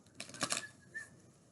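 Tarot cards are riffled and shuffled in a few quick close bursts of crisp clicking, followed by a faint soft slide.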